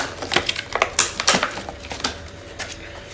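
Packaging of a freezable pet toy being opened by hand, a close run of crinkly crackles and sharp rustling snaps in irregular bursts, louder early on and thinning toward the end.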